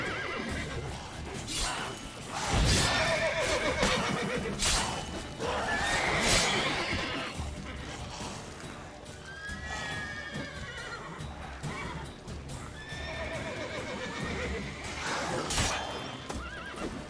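Horses in The Witcher 3: Wild Hunt whinny and neigh several times over clip-clopping hooves and clattering combat action, loud and close, with no one talking.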